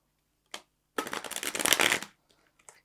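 Tarot cards are shuffled in one quick riffle lasting about a second, crisp and close, preceded by a single tap and followed by a couple of light card clicks.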